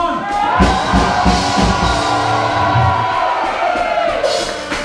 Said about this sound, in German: Einen herzlichen Applaus bitte für Justus Horn!